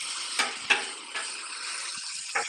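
Onions frying in a pan with barrel-aged bourbon and duck fat, a steady close sizzle with a few soft clicks and stirring bumps scattered through it.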